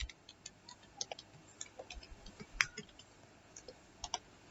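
Sparse, irregular clicks of keys being pressed as a Python command is typed into a terminal, quiet and close, with a few sharper taps standing out against a faint background.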